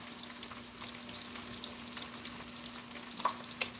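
A bone-in pork chop frying in bacon drippings gives a steady, soft, continuous sizzle with a couple of small pops near the end.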